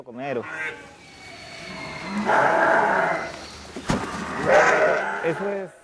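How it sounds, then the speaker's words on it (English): Camuros sheep bleat and call around a food trough on a farm, several overlapping cries near and far with shuffling and background farm noise. "3 to 20 sheep can eat in one food trough"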